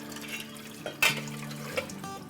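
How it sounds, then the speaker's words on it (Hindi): Cold water poured over boiled eggs to rinse them in a home kitchen, a short splashing gush with a brief drip afterward, close and moderately loud over a faint steady background hum. "इस पर ठंडा पानी डाल देते हैं।"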